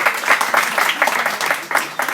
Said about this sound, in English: a big round of applause for Tara